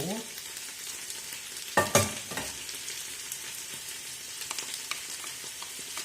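Chopped onion hits hot oil in a pan while fried potatoes are cooked for dinner. A sudden loud burst of sizzling gives way to a steady, quieter crackle and hiss, with faint scrapes of stirring.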